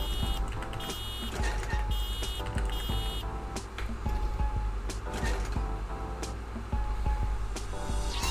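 Truck reversing beeps repeat at a steady pulse during a truck level of a video game, layered over a low engine rumble and scattered clicks and mechanical game noises.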